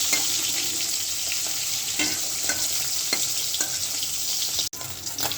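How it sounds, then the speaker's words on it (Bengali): Fish frying in hot oil with cumin seeds in a home kitchen pan, a loud, close, continuous sizzle with occasional stirring scrapes and crackles, and a brief dropout near the end. "মাছটা ভাজি তো"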